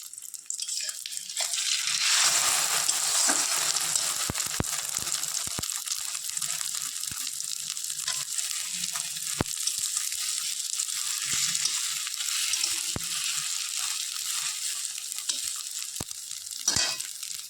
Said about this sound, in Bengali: এটাই ভেজে নিচ্ছি এখন